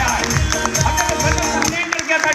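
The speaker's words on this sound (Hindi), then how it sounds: "एक जोरदार ताली चाहेंगे एमडी मोइन आनंद सर के लिए।" An audience at a Safe Shop company function in Kolkata claps and cheers loudly in a dense, sustained burst, with crowd noise and voices mixed in.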